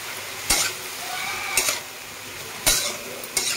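A spoon stirs dheki shak greens with salt and turmeric in a frying pan. Four distinct scraping knocks sound at irregular intervals over a soft, steady sizzle, close by with no talking.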